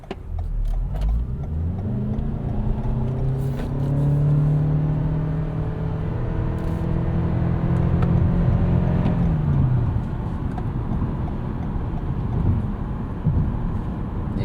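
A 2021 Toyota Camry XSE Hybrid with a four-cylinder engine accelerates from 0 to 60, its engine note climbing steadily and loudly for several seconds before easing off into smooth road and cabin rumble.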